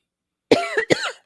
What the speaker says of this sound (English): I'm so blown away that I'm speechless and I'm coughing